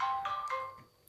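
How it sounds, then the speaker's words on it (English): Mobile phone ringtone chiming indoors, a short series of bright melodic electronic tones, moderately close and fading, ending in a sharp click. "Yeah, sorry, that was my phone."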